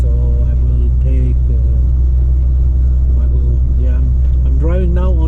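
A Volvo FH16 truck rumbles with a deep, steady engine drone while driving on a highway in a blizzard snowstorm, and someone talks over the noise throughout.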